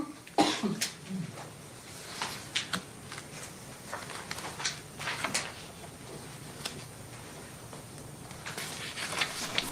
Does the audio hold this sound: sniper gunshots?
no